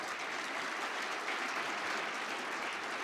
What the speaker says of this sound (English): You should give yourselves a round of applause for that.